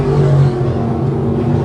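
602 crate sprint cars race through turns three and four on the Can Am Speedway oval, giving a steady, loud engine drone with a slightly heavier surge at the start and no talk over it.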